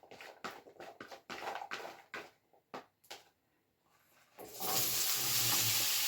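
Scattered clattering and stirring knocks, then zucchini and eggs hit a hot pan and a loud, steady sizzle takes over for the final couple of seconds.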